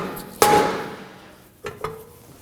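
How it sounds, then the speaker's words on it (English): A mallet strikes a rear brake rotor on a 2014-2020 Acura MDX to loosen it. Three sharp metallic knocks ring out close up, one loud hit followed after a pause by two quicker, lighter taps, with no voices. "Using a mallet, now we're going to tap around this area to get the rotor off."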